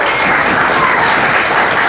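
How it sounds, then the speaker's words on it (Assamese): Audience applause for successful matriculation students at a higher secondary school ceremony, a loud, steady wash of many hands clapping together. "তেওঁলোকৰ কাৰণে এটা জোৰকৈ হাত চাপৰি দিব লাগে"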